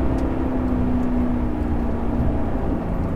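A Maserati GranTurismo S engine drones steadily at a constant level with a low, even hum and no speech over it.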